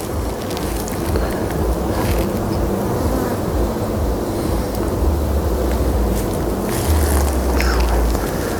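Honey bees swarm around a crowded hive that is growing and pulling in nectar, a steady dense buzz with wind rumble underneath, close and continuous throughout.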